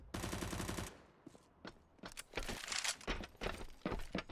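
A rapid burst of gunfire from a Counter-Strike match on the Nuke map, then scattered sharp single shots from a shotgun and an AWP sniper rifle, close and crisp with no voices.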